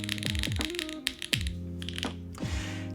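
Keystrokes on an RE65 mechanical keyboard, a heavy board with a soft, deep typing sound, tapping in an uneven close-up rhythm over a sustained tonal hum that carries through the clip.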